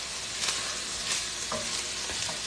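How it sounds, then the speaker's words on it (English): Peppers sauteing in a pan for chili, a dense, steady sizzle close up with brief spatters and the faint scrape of stirring, constant and moderately loud with no speech. "And we're going to saute that up."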